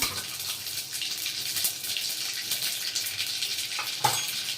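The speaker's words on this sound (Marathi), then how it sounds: "सांबारला फोडणी देऊन घ्यायची सगळ्यात पहिले मोहरी घालून घेऊया" Mustard and cumin seeds fry in hot oil for a sambar tempering, giving a dense, moderately loud hiss and crackle with a brief sharper pop near the end.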